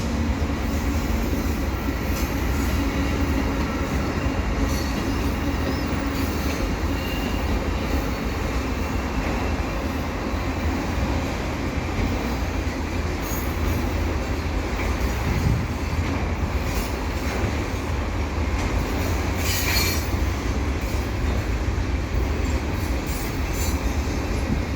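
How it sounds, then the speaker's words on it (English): An EXO commuter train rumbles past steadily at close range near Dorval, wheels grinding and clattering on the rails, with faint metallic squeals now and then. "And here's an EXO train."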